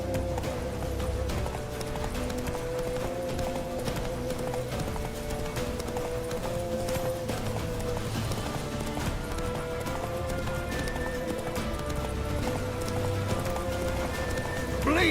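Roach the horse gallops in The Witcher 3 Wild Hunt, rapid rhythmic hoofbeats pounding continuously and close under a layer of game music and ambience, with a faint whinny near the end.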